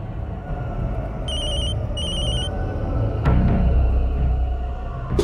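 A mobile phone rings with two short bursts of bright electronic beeping tones over a continuous rumbling background of traffic and street noise.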